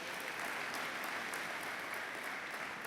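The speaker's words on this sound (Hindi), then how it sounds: "एक बार जोरदार तालियां हम पोदार जी के लिए हो जाएं" Loud, steady applause from an audience at a spiritual gathering in India fills the whole stretch, a dense wash of clapping with no talk over it.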